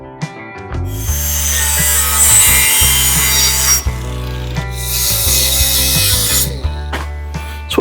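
A hand saw cuts a part to length for a 1948 GMC truck build, in steady back-and-forth rasping strokes, loud and close, with a short pause partway through and the cut finishing near the end.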